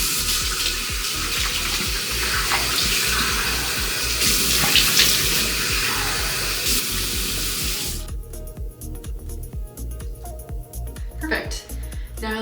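Tap water runs steadily into a sink while a face is washed off during a skincare routine, close and continuous, with splashing changes and the flow cutting lower toward the end.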